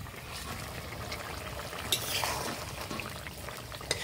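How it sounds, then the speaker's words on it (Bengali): Soaked tilapia pieces are slipped into a simmering curry with potatoes cooked until soft. Bubbling liquid and soft splashes run continuously and close by, with a few brief splashes as the fish goes in. "ভিজে রাখা মাছগুলো এবার দিয়ে দিই।"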